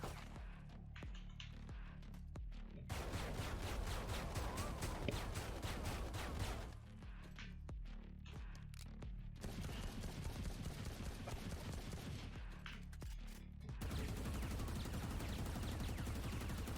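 Vandal rifle gunfire in the shooter game Valorant rattles off in sustained automatic sprays, three long bursts separated by short pauses, loud and dense throughout.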